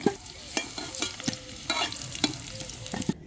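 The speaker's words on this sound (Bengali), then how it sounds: "আলুগুলো লাল লাল করে ভাজা হয়ে গেছে" Potatoes fry in hot oil as a utensil stirs them, with sharp, irregular scraping strokes over a soft, steady sizzle, close and moderately quiet.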